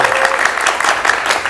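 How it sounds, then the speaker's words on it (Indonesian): Students in a television studio audience break into steady, dense applause that fills the short stretch at close range, with no voices rising above the clapping. "Mahasiswa mana tepuk tangannya?"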